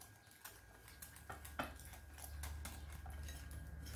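A utensil mixes chocolate crepe batter in a bowl, making light clinks and taps that come irregularly over a faint low hum, quiet and close, with no one talking.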